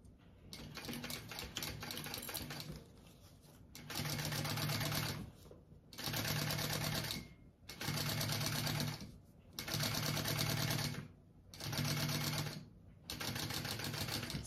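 Sewing machine stitching the seam of a fabric bag at a quarter-inch allowance, running in steady bursts with brief pauses between runs, a fast even mechanical whir close by.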